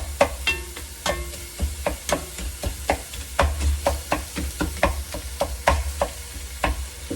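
Beef browns in a pot with a steady sizzling bed under frequent rhythmic scraping and stirring clicks of a utensil against the metal, close and fairly loud.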